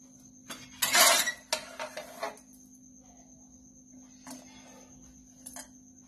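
Potato patty mixture being cut into squares with a utensil on a plate or tray, a few close clinks and scrapes in short bursts, then quieter taps, over a faint steady hum.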